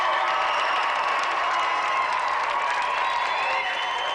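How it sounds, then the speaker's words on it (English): A studio audience on a games show claps and cheers for a challenger, a dense, even wash of applause that carries on unbroken throughout. "let's have a final round of applause for our gallant challenger"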